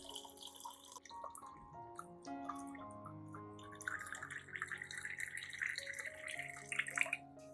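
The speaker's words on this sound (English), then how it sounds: "Next, add about 500 milliliters of clean water." About 500 milliliters of clean water is poured into a blender, a steady trickling and splashing stream with faint dripping, moderately quiet and with no talk.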